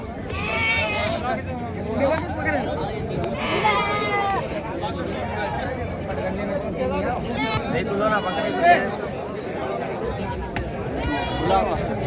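Goats and sheep bleat repeatedly amid the bustle of a weekly goat market in Parbhani district, with crowd chatter and people talking throughout.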